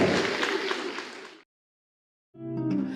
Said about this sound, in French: Un tonnerre d'applaudissements pour Jeanne, s'il vous plaît.